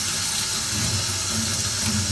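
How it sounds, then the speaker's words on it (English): Water rushes steadily through a Whoopee ice cream machine during cleaning, a close, even splashing hiss with no pauses across the short stretch and no talk. "The more water you put through the machine, the cleaner this is"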